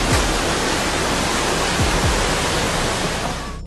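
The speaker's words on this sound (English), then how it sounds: "a sudden and intense downpour of rain, causing rivers to overflow and water to rush through the streets" Floodwater from a sudden, intense downpour rushes through the streets of Sant Llorenç des Cardassar, a loud, steady broadband roar of churning water that holds unbroken throughout, with a few low thuds beneath it.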